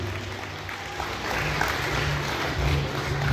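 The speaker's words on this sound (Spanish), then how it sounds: "Vamos a brindarle fuerte el aplauso a los alumnos que hoy se gradúan en" Applause for students graduating from a primary school at an end-of-year ceremony, a steady crowd clapping that swells slightly and continues throughout with a low background hum.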